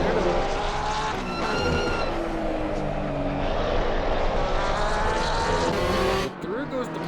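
A Porsche race car in a sim racing game roars past a rival at Paul Ricard, its loud engine note climbing and shifting through gears alongside other cars, with tire noise and race commentary over the top.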